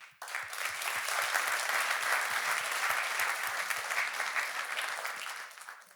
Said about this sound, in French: Romain Lebeau, qui est Head of Marketing, que je vous propose d'applaudir.